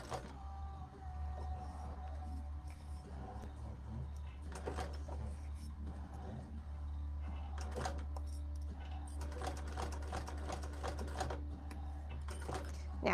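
A sewing machine stitches around a ring, heard as faint, rapid mechanical chattering in short bursts over a steady low motor hum, with brief pauses between runs.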